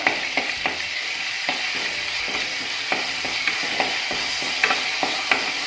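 Ginger, garlic, a green chilli and curry leaves sauté in oil for a yam curry, giving a steady close sizzle broken by regular soft scrapes of a spoon stirring the pan.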